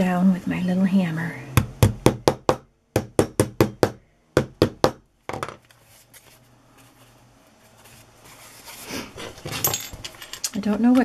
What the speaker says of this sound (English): I'll just pound that down with my little hammer.